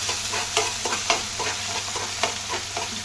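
Tomatoes fry and get stirred in a pan while making fish sambar, giving a steady crackling sizzle with regular scraping stirs throughout, close and clear with no voices.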